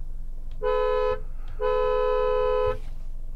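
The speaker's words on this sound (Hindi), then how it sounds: "ये है हॉर्न की साउंड" A 2023 Mercedes C-Class car horn honks twice, a short toot followed by a longer blast, loud and close with a brief gap between them.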